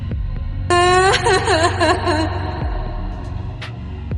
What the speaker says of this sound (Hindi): ये रोने की आवाज किसकी है?